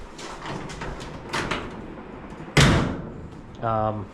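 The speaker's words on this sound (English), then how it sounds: "mainly that driver's door doesn't shut as well as it did" The driver's door of a 1936 Ford Roadster, which no longer shuts as well as it did, is shut once with a single solid thud midway, amid people talking before and after.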